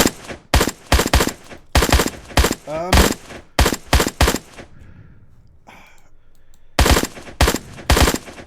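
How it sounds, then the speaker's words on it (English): Gunfire in the Unreal Engine 5 game Unrecord, loud close bursts of rapid automatic shots in clusters, a brief quieter gap with faint rattles, then another sharp volley. "He's still shooting? Why is he still shooting?"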